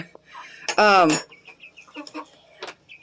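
A laying hen gives a loud, drawn-out cackling call near the microphone, followed by softer scattered clucks and small chirps against a quiet background.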